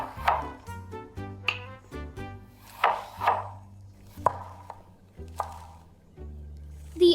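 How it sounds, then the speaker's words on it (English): Tomatoes and onions being chopped on a board, a run of sharp knife taps in uneven bursts with brief pauses, close and fairly loud, no talk over them. "let's start with chopping tomatoes and onions"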